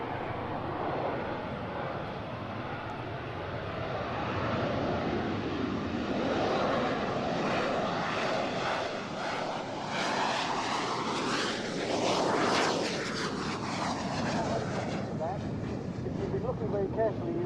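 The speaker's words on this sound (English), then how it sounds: "it's using the vector thrust nozzles to allow it to fly so slowly" Harrier jump jet flying slowly on vectored thrust nozzles produces a continuous roaring engine drone with a sweeping pitch shift as it passes, heard at a distance under a speaking voice.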